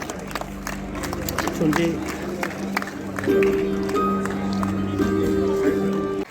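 A crowd at an event applauds the arrival of a university vice-chancellor, with steady, dense clapping throughout while someone speaks loudly over it.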